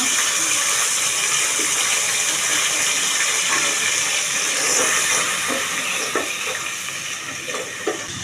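Ginger-garlic paste frying with nearly browned onions for a bottle gourd and shrimp curry gives a loud, steady sizzle and steam hiss once a splash of water goes in, easing slightly toward the end.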